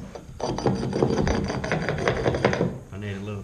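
A carpet packer tool is pressed along a baseboard to tuck carpet, making rapid scraping and tapping strokes in an uneven rhythm, close and fairly loud, with a brief pause near the end.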